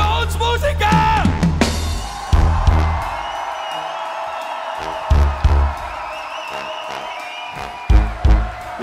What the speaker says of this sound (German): Einen fetten Applaus für uns Musiker!